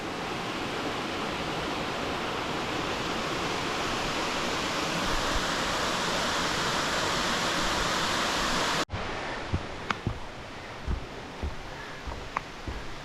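Tama Fall, a waterfall on Snyder Brook in New Hampshire's White Mountains, gives a steady, dense roar of rushing water that cuts off abruptly partway through, leaving quieter trickles and scattered knocks.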